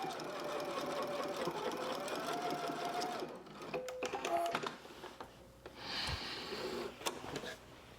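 A sewing machine runs in bursts while topstitching barrel leg pants, its rapid mechanical whir starting and stopping, close and fairly quiet, with brief handling clicks between runs.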